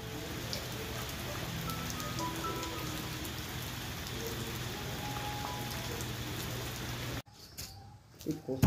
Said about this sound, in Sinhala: ඉතින් මුළු දවසම වහිනවා පායනවා ආපහු හයියෙන් වහිනවා